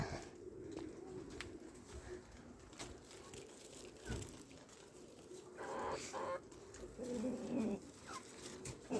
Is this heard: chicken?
yes